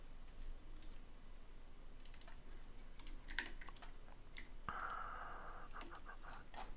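Typing on a computer keyboard, quiet irregular key clicks in small bursts with a few louder taps and a brief tonal beep, heard alone against faint room hiss.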